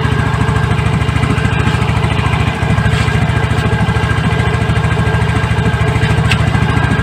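A Yamaha Mio J scooter engine idles steadily close by, a loud continuous low putter with a rapid even pulse that dips only briefly once before carrying on.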